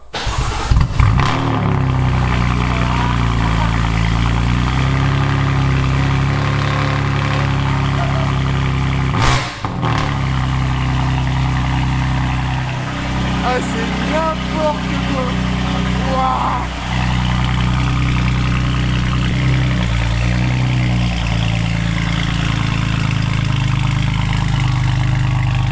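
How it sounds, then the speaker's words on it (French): A BMW M3 F80 fitted with a loud Akrapovič exhaust fires up from cold and settles into a deep, rumbling idle close by, with a brief throttle blip midway. People talk excitedly over the engine. "Alors le cold start avec la M3 Niagara."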